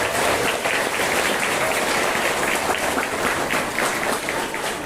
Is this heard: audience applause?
yes